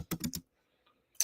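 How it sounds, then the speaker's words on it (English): Someone types on a computer keyboard: three quick close keystrokes, a short pause, then one more sharp tap, all quiet and with no talk. "I'm just typing it in the chat."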